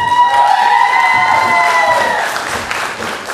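Audience at a nursing school oath ceremony applauds loudly, dense clapping and cheering under a held sung or sustained tonal sound that fades as the clapping continues.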